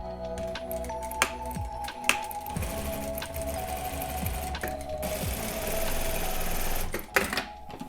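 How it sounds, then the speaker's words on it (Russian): A sewing machine runs close and steady, stitching along the back facing of a pajama, with a few brief pauses and clicks between continuous whirring bursts and no speech. "Теперь мы проложим строчку только на спинке, соединяя обтачку."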